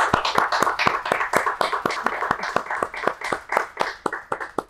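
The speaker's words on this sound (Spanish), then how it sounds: "Saludamos con un aplauso a la constituyente, Rosa Catrileo." Clapping at a talk-show taping welcoming a guest, heard as a few hands beating an even, rhythmic pattern of sharp, distinct claps at moderate volume, with no speech.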